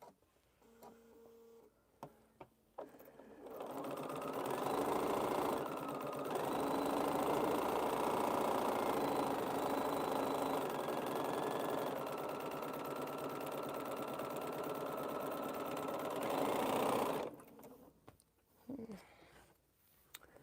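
A sewing machine stitches a quilt, running steadily for about fourteen seconds with a continuous mechanical hum and whir, close and fairly loud, preceded and followed by brief handling clatter.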